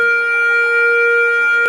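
A scramble alarm in the ready room of an F-16 fighter interceptor squadron sounds as a loud, sustained, piercing electronic tone that holds steady for under two seconds.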